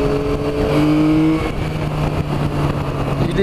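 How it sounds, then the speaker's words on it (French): A Yamaha Tracer 900 motorcycle engine revs up close and loud, its pitch climbing, dropping, then settling into a steady throaty drone, with no voices over it. "Il est rageux ce moteur."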